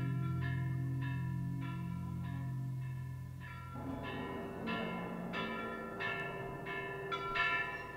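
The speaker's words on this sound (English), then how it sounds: "Suddenly from outside, a bell spoke out, then ceased abruptly." A town bell tolls repeatedly in the distance, with evenly spaced resonant strokes ringing over a low rumbling background.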